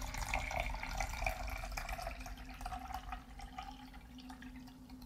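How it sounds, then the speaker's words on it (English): Water draining down a sink after filling a cup to its fill line, a steady close gurgling and trickling wash with small drips throughout, loud and continuous. "let's hear that water go down"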